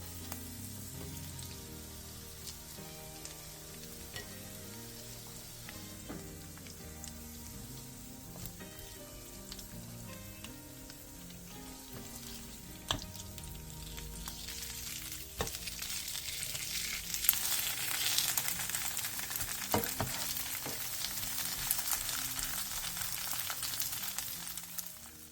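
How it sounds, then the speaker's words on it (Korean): Vegetable pancake batter (yachaejeon) fries in an oiled pan over medium-low heat, giving a quiet, steady sizzle that grows louder and busier toward the end, with no talking. "팬에 기름을 두른 뒤 먹기 좋은 크기로 반죽을 올려 중약불에서 앞뒤로"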